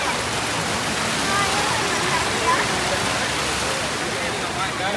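The Sitraruvi waterfall in the Kolli Hills pours with a constant, full rushing hiss of falling water, loud and close, while faint voices may sit underneath.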